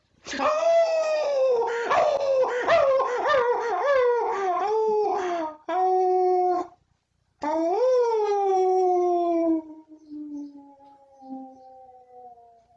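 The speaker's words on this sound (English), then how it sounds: "Howling of the wolf in the mountains." A wolf's long, wavering howl rises and falls in several drawn-out calls, clear and alone, ending in a fading whine.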